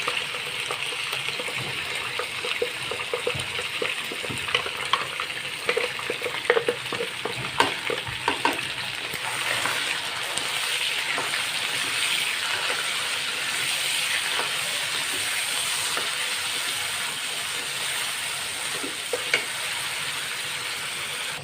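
Ground spice paste hits browned chicken in a hot pan for an aloo chicken curry, giving a steady loud sizzle and crackle throughout, with stirring scrapes near the start and no talk.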